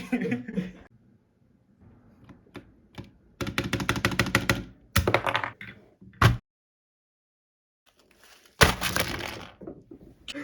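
Rapid clacky keystrokes on an iLoveBee i61 mechanical keyboard come in dense bursts separated by pauses, close and crisp, with a few isolated taps in between.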